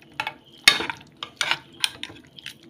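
Ground fried dried chilli being mixed into boiled lai leaves, heard as close, irregular scrapes and soft clatter of a spoon against a bowl, with short pauses between strokes and no talk.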